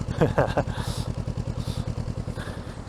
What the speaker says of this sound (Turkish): Egzoz sesi bu şekilde gördüğünüz gibi.